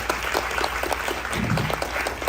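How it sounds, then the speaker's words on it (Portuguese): An audience at a film festival stage presentation gives a brief burst of dense, steady applause for an honored guest, close and full throughout. "Palmas para Júlia Barreto"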